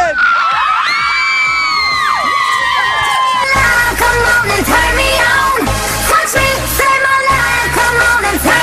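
A crowd of school students at a spring student festival whoops, shouts and cheers loudly and continuously. High excited yells open the scene, then a dense, roaring wall of cheering follows.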